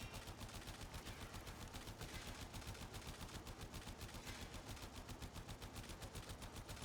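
Rapid automatic fire from the MK1 Braton rifle in the Warframe video game, a steady stream of close, loud shots repeating evenly without pause.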